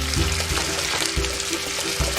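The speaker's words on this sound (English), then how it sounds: "Now we're going to add our milk." Milk pours into a pan for a pink sauce to go with salmon, a brief wet splashing and gurgling stream with a few soft bumps, close and alone.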